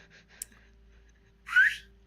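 A woman gives a short, rising whistle near the end after a quiet stretch, preceded by a faint breath and a small click.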